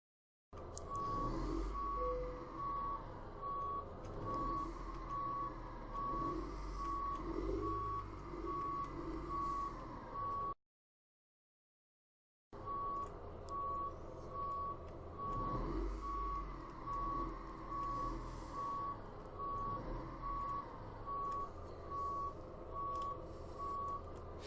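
A Freightliner Cascadia truck in American Truck Simulator reverses with a steady, evenly spaced electronic backup beeper over a low engine rumble. The beeping is briefly cut off by a gap of silence midway and then resumes.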